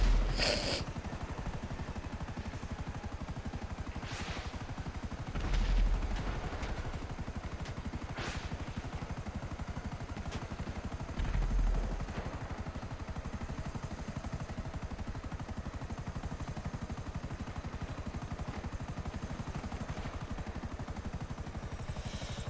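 A smoking, damaged helicopter in GTA V Online, a steady rotor chop and engine drone throughout with scattered gunfire cracks and a couple of louder thumps.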